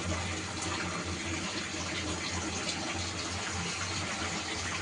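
Hot water is poured into a cooking pot of spiced village-style cowpea curry once the oil has separated from the masala, producing a continuous, even gushing pour.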